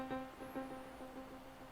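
Quiet synth or instrument notes run through the JST Soar tape delay plugin with its age control fully up, giving soft, dull, smeared repeats with muted highs and blunted attacks, heard alone.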